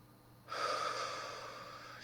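A deep, quiet inhale through the nose and mouth during a relaxation exercise, starting abruptly and then trailing into a long, soft hiss of held breath, close and alone without talk.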